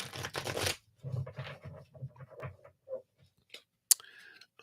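Tarot reading cards are shuffled by hand in short, crisp bursts of riffling and flicking, close and quiet, with pauses between and a sharp click near the end.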